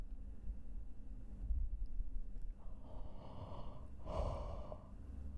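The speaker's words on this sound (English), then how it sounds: "Oh no, I'm yawning." A long, drawn-out yawn with a breathy exhale swells near the end, close and fairly quiet, without speech.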